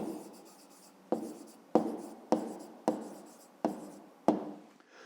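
Pen writing an answer by hand on paper, seven short scratchy strokes in an even rhythm, close and quiet with no talking.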